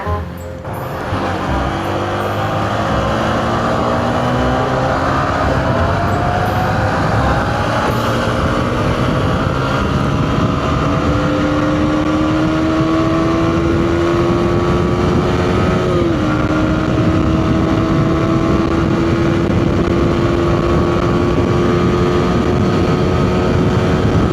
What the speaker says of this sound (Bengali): তো এখন আমরা দুজন রেস দিব, দেখা যাক আমার ব্লুবার্ড পারে নাকি ম্যাও গালিবের R1M পারে